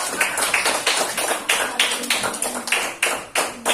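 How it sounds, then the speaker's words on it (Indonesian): A classroom audience claps for a student group, a quick rhythmic run of sharp close-range claps lasting several seconds, with no talking. "Tepuk tangan dulu untuk kelompok."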